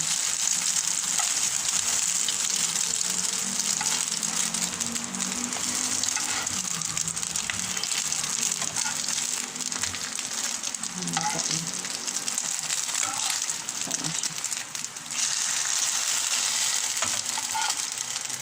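Tiny dulong fish frying in a pan, seasoned with paprika and turmeric powder: a loud, steady crackling sizzle close up, with faint stirring scrapes underneath throughout.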